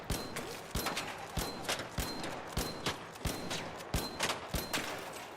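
Repeated sharp gunshots fired during a hike, about a dozen evenly spaced cracks over several seconds at a steady rhythm, fairly distant and moderately loud in an outdoor setting.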